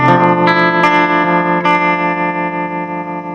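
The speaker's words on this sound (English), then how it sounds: "we've got the glassy clean tones of a Vox" Clean electric guitar through a Vox amp model, chords ringing out bright, glassy and chiming with a touch of chorus shimmer, strummed several times and left to sustain.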